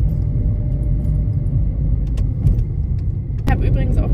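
A car driving through Innsbruck: a steady low interior rumble of the road and engine, loud and continuous, with a brief rattle and a sharp click near the end.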